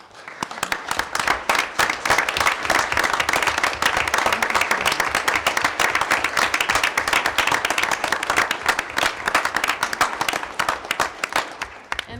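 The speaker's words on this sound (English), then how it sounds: "give you a round of applause and one big thank you" Sustained audience applause fills a school committee meeting room, dense steady clapping for about twelve seconds with a brief spoken thanks over it.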